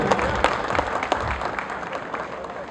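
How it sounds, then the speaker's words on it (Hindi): An audience claps for a student at a bhajan performance at a Sati Mata temple, brisk applause that is loud at first and tapers, with a voice over it. "तालियां बजाओ इस बच्चे के लिए"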